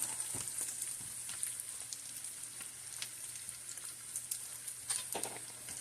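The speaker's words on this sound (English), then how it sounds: "now we're going to come in with our beef broth" Beef broth pours into a hot pan and sizzles for beef stroganoff, a steady close frying hiss with faint crackles and pops spread evenly throughout, no talking.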